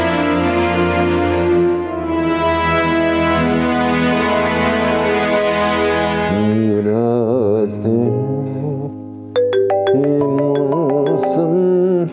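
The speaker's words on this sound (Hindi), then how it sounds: "फिर फोन आ गया इसका।" A musical phone ringtone plays loudly, with sustained melodic tones that shift into a brighter, chiming pattern near the end.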